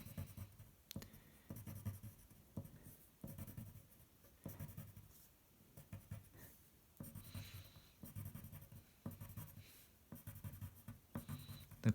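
Colored pencil drawing on paper, a steady run of quiet scratchy strokes that come in short bursts with brief pauses between them, close and soft, with no talking.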